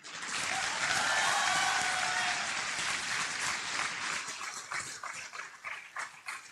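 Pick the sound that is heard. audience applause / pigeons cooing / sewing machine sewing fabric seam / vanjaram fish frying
audience applause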